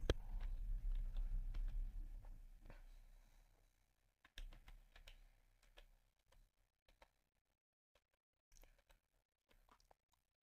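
Faint, scattered key clicks come from a computer keyboard as a username is typed during a Google account sign-up. The clicks fall in short uneven bursts over a quiet room.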